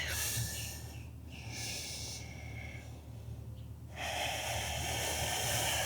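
Slow, deep breathing during an outdoor morning yoga flow while holding a stretch, a close airy inhale and exhale over a steady background hiss, with no talking.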